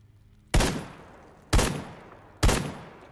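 Three loud, sharp gunshots ring out about a second apart in S.T.A.L.K.E.R. GAMMA, each a hard crack that decays quickly, with no talking.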